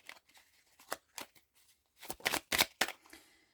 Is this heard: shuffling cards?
yes